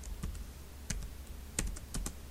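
Quick bursts of keystrokes on a computer keyboard, close and moderately quiet, with short pauses between clicks.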